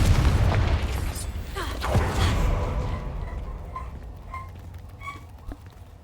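A Confringo spell explosion in Hogwarts Legacy, opening with a deep loud boom that rumbles away and fades into quieter magical tinkles and small pops, with a voice speaking over the blast.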